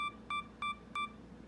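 Sony A7R III camera self-timer sounding three short, evenly spaced electronic beeps in quick succession, close and clear over a quiet background.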